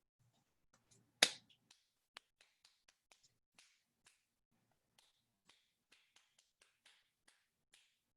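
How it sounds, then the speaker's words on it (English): Hands clap out a piano rhythm: one sharp clap, then a quick, uneven run of light claps. They sound quiet and close, with silence between them. "Could you just like clap us the rhythm of what you might have played on your piano?"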